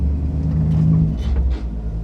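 A 1963 Impala with a loose steering column and a suspect transmission rumbles low and steady as it shifts into first and pulls away quietly, with faint mechanical clunks partway through.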